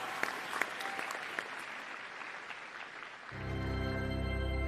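An audience at the Kentucky FFA State Convention gives a sustained round of applause, a dense hall full of clapping that fades out before music with a low hum takes over.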